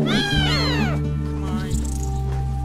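A lion cub in the video game Paws gives a long, rising and falling meow, loud and close, over a steady game music bed.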